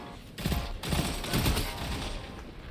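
Summoner auto rifle firing in Destiny 2: dense, continuous rapid shots blending into a sustained loud rattle, with slight surges in intensity, close up and uninterrupted.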